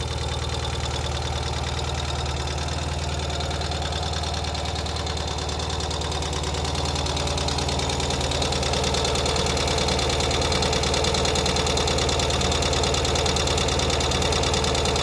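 A 2023 Ural sidecar motorcycle engine idles just after a cold start, a loud, close, steady rumble with a rapid knocking pulse that runs unbroken throughout.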